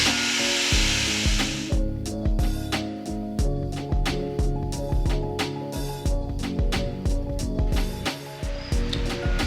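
Wood is hand-sawn for a falconry perch build, with a steady rhythm of close, rasping back-and-forth strokes that carry on evenly after a brief burst of hiss at the start.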